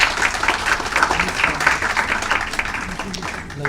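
Audience applause at an award ceremony and scholarship distribution for a foundation day, steady dense clapping throughout with a talking voice mixed in underneath.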